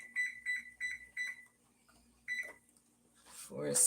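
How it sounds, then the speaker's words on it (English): Kitchen timer set for six minutes while cooking pasta, giving four quick evenly spaced beeps, then another beep and rustling, faint and close. "I put the timer on"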